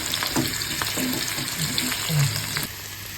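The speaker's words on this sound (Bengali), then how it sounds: "এটা হচ্ছে তোমার পেঁয়াজ দিয়ে একটু ভাজা ভাজা করবো" Onions frying in a pan, a steady sizzle with occasional stirring scrapes and a soft clink near the end.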